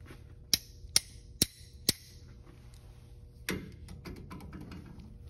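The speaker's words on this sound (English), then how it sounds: "Tap it a little bit." Four sharp metallic taps on a Model A Ford mechanical brake part, evenly spaced and close, followed by a single heavier knock and soft workshop handling clatter.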